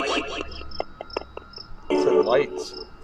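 A grasshopper chirps outdoors at night in a park, a series of short, sharp, evenly spaced clicks close by, with a voice murmuring briefly in the background.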